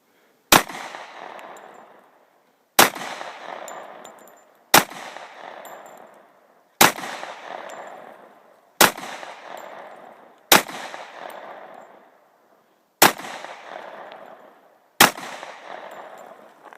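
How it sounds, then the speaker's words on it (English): A Kimber Pro Carry II 1911 pistol with a bull barrel fires eight sharp, loud shots in an even, unhurried series, each crack followed by a brief ringing decay and no talk. "that's 8 rounds through the Kimber Pro Carry"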